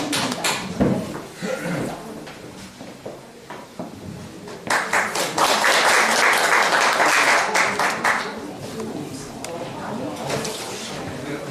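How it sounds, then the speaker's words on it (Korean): An audience at a Korean taekwondo international agreement signing ceremony breaks into applause to welcome a speaker to the stage, scattered clapping and room noise swelling into a louder burst midway before tapering off. "큰 박수로 모시겠습니다"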